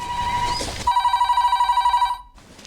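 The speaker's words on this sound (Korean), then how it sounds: "벨소리에 딸이 깰까봐" A telephone bell rings with a rapid trilling pulse, loud and close, cutting off abruptly after a couple of seconds.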